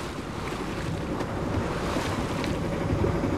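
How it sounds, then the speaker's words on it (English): Sailing boat motor sailing at sea with its engine ticking over, heard as a steady broadband wash of sea, wind and water noise with a low continuous rumble underneath and no voices. "we're motor sailing with the engine ticking over at the moment"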